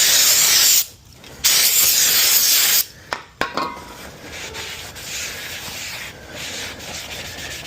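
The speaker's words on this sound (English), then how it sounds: "we're gonna clean the clutch or the flywheel surface" A rag scrubs manufacturing oil off a Honda Civic flywheel surface in loud, close rubbing strokes, with a couple of short pauses and then steadier, softer wiping.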